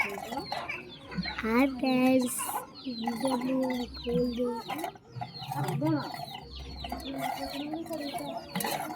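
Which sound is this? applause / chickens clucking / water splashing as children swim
chickens clucking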